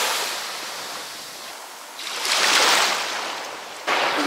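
Calm sea waves wash onto a beach on the Bulgarian Riviera, a steady hiss of surf with gentle swells and light wind noise across the microphone, no voices present.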